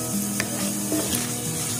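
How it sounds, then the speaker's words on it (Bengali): Cumin and dry spices fry in a hot pan with a steady close sizzle and a few soft stirring scrapes, continuous and fairly loud, with no voices. "আর এখানে দিয়ে দিচ্ছি 1 চামচ জিরাটাকে আমি খুব ভালো করে ভেজে নেব"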